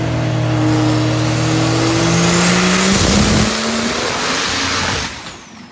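Race car engine roaring on a dyno during a run that ends in engine failure, a loud sustained drone with rising tones that holds for about five seconds, then drops away sharply at the end.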